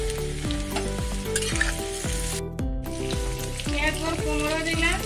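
Cut potatoes and carrots fry with other mixed vegetables in a hot pan, sizzling loudly and continuously. A spoon scrapes and stirs close by in a quick, regular rhythm of about two strokes per second.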